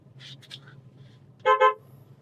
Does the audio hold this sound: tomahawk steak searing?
no